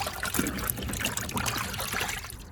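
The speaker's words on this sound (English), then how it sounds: "Rinse this around, get some of that junk off there." An alligator hide is swished around in oak bark tanning solution, giving continuous close sloshing and trickling water sounds at moderate level with no talking.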